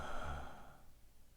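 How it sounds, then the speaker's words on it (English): A slow, deep recovery inhalation during a freediving breath-hold exercise, one soft airy sigh-like breath drawn in close to the microphone, fading out after about half a second. "These are recovery breaths, sigh breaths, where we focus on the inhalation."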